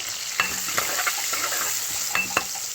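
Amaranth leaves fry with chopped onions and turmeric in a pan, a steady close sizzle broken by a few sharp stirring scrapes and clinks.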